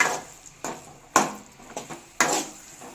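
A spoon scrapes and clanks against a pan while a milk mixture is stirred and fried down until the milk reduces. There are about five distinct metallic strokes at an uneven rhythm, close and fairly loud.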